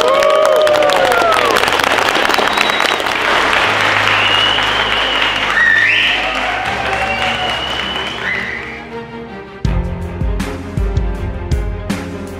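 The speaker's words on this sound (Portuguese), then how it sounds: "quero que todos vocês recebam com uma salva de palmas a nossa grande atleta, Isa Pessini." A crowd claps loudly in sustained applause that gradually thins and fades, giving way to other sounds near the end.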